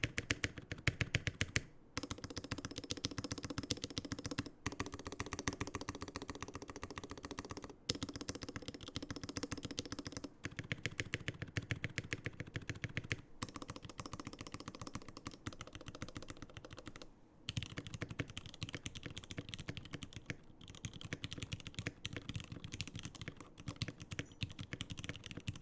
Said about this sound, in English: But keyboard, how does it sound with the mic with all the filters off now?